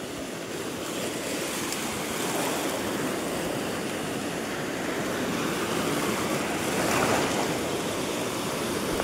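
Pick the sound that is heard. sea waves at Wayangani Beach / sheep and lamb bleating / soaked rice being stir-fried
sea waves at Wayangani Beach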